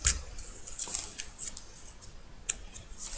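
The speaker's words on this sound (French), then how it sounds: "J'ai découpé ma petite bannière." Scissors snip through a paper banner for a Christmas tripod card, giving a quick series of sharp, close cutting clicks with short gaps between them.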